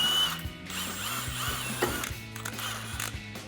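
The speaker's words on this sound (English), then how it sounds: "So I have my impact and 15 millimeter socket." An impact wrench with a 15 mm socket runs on the strut mount bolts of a 2007-2015 Chevrolet Silverado 1500's front suspension. It makes a close, steady mechanical whirring buzz for several seconds with a few short surges and no talking.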